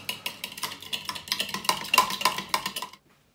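Naan dough ingredients with caster sugar are mixed in a bowl, with quick rhythmic scraping and clinking strokes of a utensil against the bowl, close and clear, stopping abruptly.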